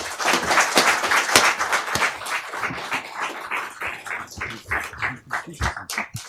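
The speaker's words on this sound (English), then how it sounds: "so let's give them a round of applause" A conference audience applauds at the end of a panel, with a dense patter of hand claps that rises and falls for several seconds and has no voices over it.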